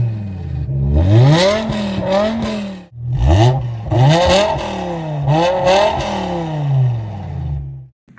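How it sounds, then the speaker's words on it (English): A 2006 BMW M6 V10 engine revs hard and high in repeated rising sweeps, loud and close, with brief drops between pulls. "That is a very high revving engine"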